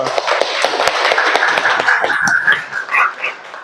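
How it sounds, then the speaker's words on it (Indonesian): A middle school class in an Islamic religious education lesson claps for a student who answered well, a short burst of quick, scattered hand claps close by that thins out unevenly near the end. "tepuk tangan untuk Andika"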